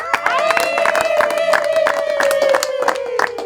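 A live audience at a Rwandan comedy show bursts into rhythmic clapping while a high, sustained ululating cry glides across the whole burst, loud and close.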